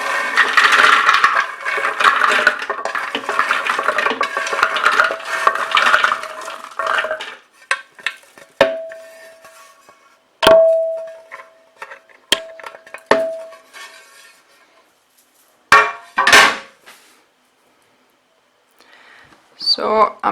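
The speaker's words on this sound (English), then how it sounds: "So I'm gonna now add all the nuts to the food processor" Roasted pecan nuts tumble into a food processor bowl, a dense rattling pour over the first seven seconds followed by scattered clicks and clatters of the last pieces dropping in.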